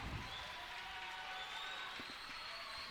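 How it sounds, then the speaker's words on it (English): Crowd of Scott County Central fans at a boys high school district final basketball game, a steady wash of cheering and applause heard from a distance, faint and continuous with a few scattered claps or bounces. "So is the crowd noise from Scott County Central, folks"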